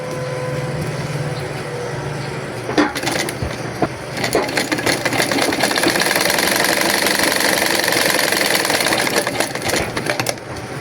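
A sewing machine stitching a seam on fabric, running loud and steady with a continuous mechanical whir after a brief start, with no talking over it.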